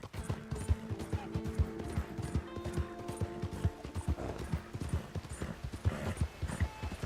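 Steady, rhythmic clip-clop of a horse's hooves trotting through snow in Red Dead Redemption 2, fairly close and continuous over a faint tonal background.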